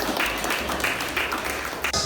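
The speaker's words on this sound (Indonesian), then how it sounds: "Tepuk tangan dulu untuk kita semua." Applause from an audience of women at a coastal community development event, a brief burst of clapping with dense patters close by.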